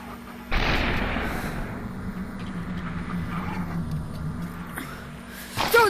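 Gunfire from the Superhot VR video game: a sharp loud blast opens the clip, followed by a sustained rumbling low tail and a second burst at the end, with no talking.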